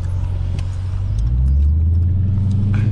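A Dodge Charger or Challenger with an active exhaust delete downshifts, a loud, close, deep exhaust rumble that swells briefly in the middle of three seconds of continuous engine noise.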